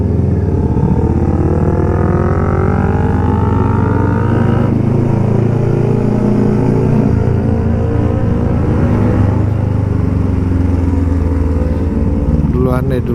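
A Kawasaki Ninja RR 150 motorcycle engine drones and revs up in rising sweeps, loud and close, with a voice talking over it.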